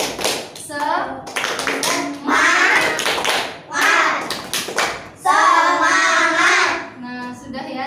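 Primary-school pupils in an Islamic history lesson perform a rhythmic 'tepuk semangat' clapping chant, sharp bursts of claps in set patterns alternating with loud chanted voices of children and a teacher.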